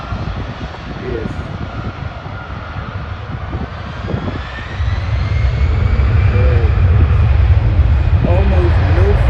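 An Airbus A320 jet takes off at Schiphol, its engine roar swelling and becoming loud and steady halfway through, with a rising whine above it and people talking nearby.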